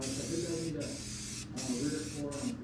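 Rust reformer sprayed from an aerosol can onto the body of a 1958 Plymouth, a steady close hiss in several bursts separated by brief pauses.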